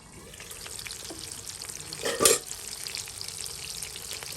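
Pangas fish from a home pond frying in a pan, a steady close sizzle with one brief louder hiss burst partway through, no voices.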